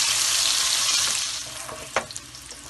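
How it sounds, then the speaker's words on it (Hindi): Onions frying in a pan for a restaurant-style capsicum keema make a loud, dense hiss for the first second and a half. The sizzle then eases, and a few sharp clinks of stirring break through near the end. "प्याज डाल देंगे, इसको बहुत गोल्डन नहीं करना है।"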